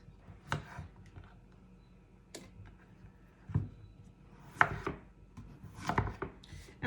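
A knife cutting yellow squash on a wooden board, with a handful of separate sharp chops spaced unevenly apart and quiet pauses between them, heard close up.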